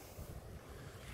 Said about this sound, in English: And a little bit of wind now.